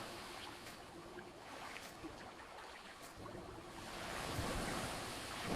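Waves washing in at the water's edge of a sandy beach, a steady broadband wash with wind noise, swelling louder toward the end; no voices.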